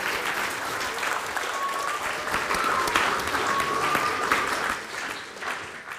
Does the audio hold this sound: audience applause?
yes